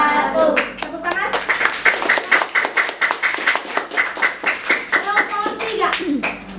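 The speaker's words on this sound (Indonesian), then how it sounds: "Tepuk tangan." Schoolchildren in a fifth-grade classroom clap their hands in a fast, rhythmic burst of sharp, close claps, with children's voices chattering faintly between the beats.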